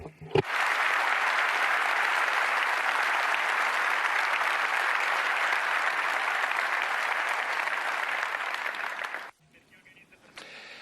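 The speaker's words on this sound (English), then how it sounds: "A big round of applause for all of our technicians and engineers in Bologna." Sustained loud applause from a large audience at a Ducati motorcycle world premiere event, steady and dense for about nine seconds before cutting off abruptly into a quieter room.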